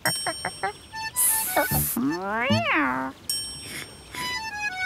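A young kitten gives several high, wavering meows, some short and one long rising cry, close by with a chime and other cartoon sound effects around it.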